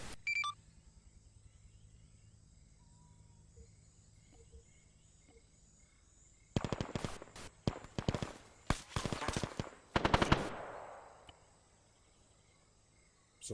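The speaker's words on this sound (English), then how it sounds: "someone just shot at us, didn't they?" Bursts of rifle gunfire in a Vietnam War video game, a cluster of sharp overlapping shots and a short fusillade after a quiet stretch of insect-like ambience, fairly loud and close.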